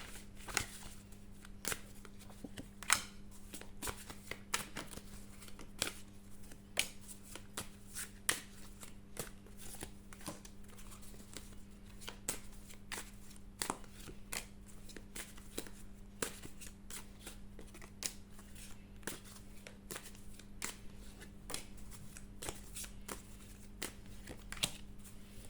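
Oracle cards being shuffled by hand in quick, repeated riffles and soft slaps, faint and close, running steadily with a constant low hum in the background.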